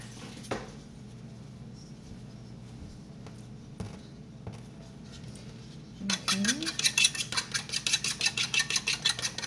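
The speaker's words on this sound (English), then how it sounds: "Put it in this and just beat my eggs." Two large eggs whisked by hand in a bowl for a sweet potato casserole: a quick, steady run of close, rhythmic clinking taps that starts partway through after a quiet stretch.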